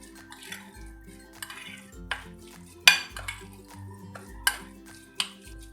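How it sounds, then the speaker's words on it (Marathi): A spoon mixing boiled beetroot koshimbir with finely chopped coriander in a bowl, giving repeated close clinks and scrapes against the dish, a few sharper knocks standing out, over soft background music. "यामध्ये आपल्याला घालायचं आहे बारीक चिरलेली कोथिंबीर हे मिक्स करून घ्यायचं आहे"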